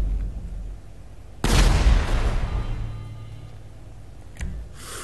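An EMP explosion in GTA 5 erupts with a sudden loud boom that decays into a long rumbling wash, followed a few seconds later by a brief sharp chime-like ding off to one side.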